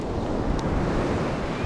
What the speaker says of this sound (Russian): вот, как видите, волна бьет